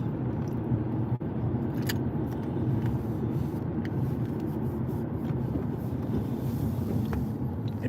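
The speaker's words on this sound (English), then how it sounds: "I see all the trucks and trailers pulling out." Trucks pulling horse trailers out after a rodeo-type event at sundown, heard as a steady broadband engine and road rumble with faint clanks, continuous and moderately loud throughout with no talk.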